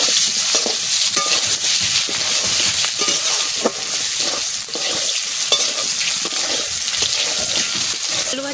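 Potatoes sizzle in oil in a pan over a wood fire while being stirred, with steady frying hiss and frequent scraping, clattering stirs up close.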